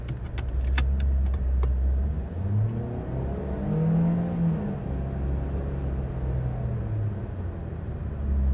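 A diesel Toyota Corolla pulling away, its engine rumbling low and revving up as it drives off, heard from inside with a steady whir and a few light clinks early on.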